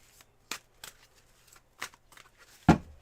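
Playing cards shuffled for a reading, heard as a few separate riffling bursts spread across a quiet stretch, with the last burst loudest and closest.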